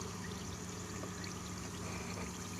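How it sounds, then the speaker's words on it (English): A liquid fizzes and bubbles in a chemical reaction on a kimberlite rock specimen, a soft, constant close-up hiss and trickle with no talking. "reactions are happening. You see it bubbling up?"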